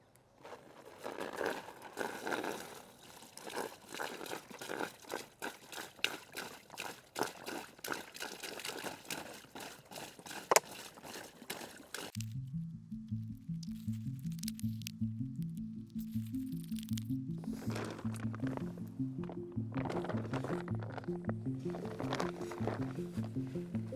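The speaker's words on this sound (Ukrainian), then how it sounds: "У мене з собою три пляшки, і я залью їх в цей наплічник" Water from three bottles poured into an ultralight backpack, a splashing, trickling pour that shifts partway through to a steadier flow under a rhythmic background.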